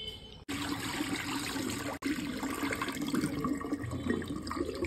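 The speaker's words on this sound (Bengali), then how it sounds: "জলটা ফেলে দিচ্ছি" Water is poured off washed puffed rice into a sink, a close, steady rush of pouring and splashing with a couple of brief breaks, no voice over it.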